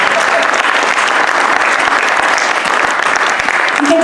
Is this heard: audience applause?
yes